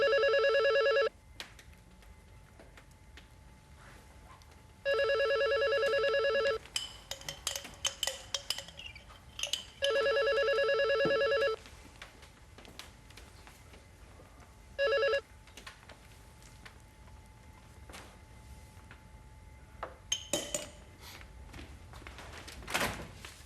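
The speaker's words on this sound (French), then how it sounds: "T'as pas entendu le téléphone sonner?" An old-style telephone bell rings indoors in repeated bursts of about a second or more, with pauses between them, among faint clicks and background noise.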